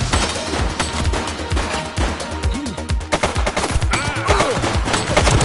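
Rapid, dense gunfire in The Precinct comes in loud close bursts and overlapping volleys, with brief in-game voices mixed among the shots.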